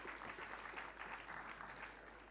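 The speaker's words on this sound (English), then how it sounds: "So a round of applause again for ITC and Novotel." A round of applause from the audience at a hospitality meeting, faint and distant, with a steady patter of many hands that fades slightly at the end.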